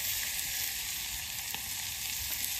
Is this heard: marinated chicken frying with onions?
yes